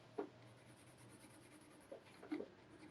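A few soft watercolor pencil strokes scratch against paper, brief and quiet, with long pauses of near silence between them.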